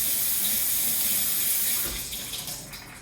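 Running water pours steadily through a measuring colander rinsing soaked almonds, a close, continuous splashing rush that tapers off slightly toward the end.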